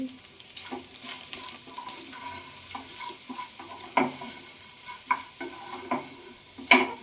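Gravy boiling and sizzling in a pan, a steady fizzing hiss broken by occasional sharper pops and spatters of bursting bubbles.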